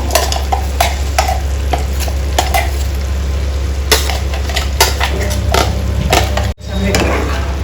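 Ridge gourd curry being stirred in a pan, with a loud, steady sizzle beneath a quick series of close metallic scrapes and taps from the spoon, briefly cut off near the end.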